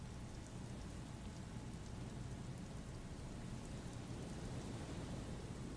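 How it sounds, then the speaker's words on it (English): Steady drizzling rain in Disco Elysium forms a constant, even hiss with a low rumbling wash beneath, unchanging throughout and without other sounds. "The drizzle, it never seems to stop, does it?"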